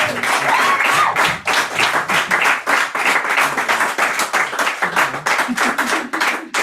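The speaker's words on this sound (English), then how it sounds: "a big round of applause for all the crack." Audience applause at an evening poetry event, loud continuous clapping from a crowd close by, sustained for the whole stretch with no talk.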